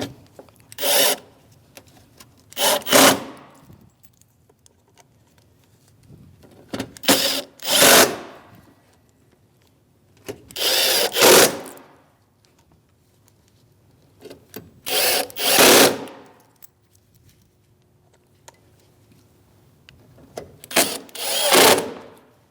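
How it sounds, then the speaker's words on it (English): A power driver runs T15 Torx mounting screws into the windshield washer reservoir of a Chevrolet Malibu, giving five short separate whirring bursts spaced a few seconds apart, close and fairly loud in a quiet space. "Now we can put our mounting screws in. This is for a T15 Torx bit."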